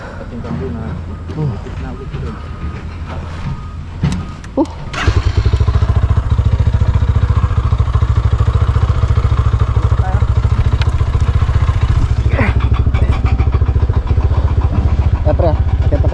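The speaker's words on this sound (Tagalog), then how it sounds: "Gas-gasan tuloy yung motor ng Paring Kanoy." A motorcycle engine revs loudly and steadily on a rough trail, a continuous throbbing drone that swells after a quieter stretch with people talking over it.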